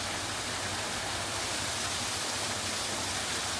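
A waterfall tumbles over rocks in a zoo animal habitat, giving a steady, dense rushing hiss that stays even and unbroken throughout.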